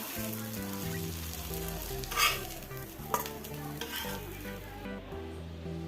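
Ingredients for a ragi dosa chutney sauté in a pan, a constant bright sizzle with a couple of louder stirring scrapes, under steady background music.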